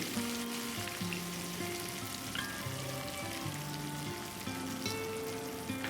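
Curry leaves fry in hot oil as a tempering for moong dal curry, giving a continuous, moderate sizzle beneath steady background music, with no voices.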